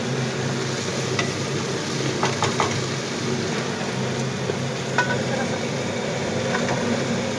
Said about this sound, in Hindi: कीमा मेरा बिल्कुल भुनाई पे आ चुका है